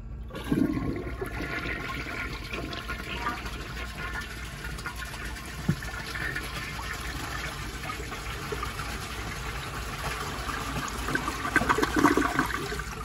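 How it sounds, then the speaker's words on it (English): A 1955 Eljer Duplex toilet with a whirlpool jet does a half-tank flush: a steady rushing gush of water that swells again near the end, heard alone and close. "So I'm gonna do kind of like a half tank flush."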